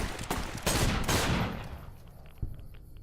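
A burst of gunfire from a weapon in the video game Fallout: New Vegas, a few rapid close shots that trail off into a fading echo, followed by one softer thump.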